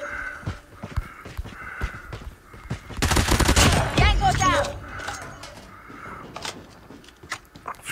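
Gunfire in Call of Duty Mobile, a loud burst of rapid shots in the middle of the clip, with a voice talking and game announcer chatter before and after.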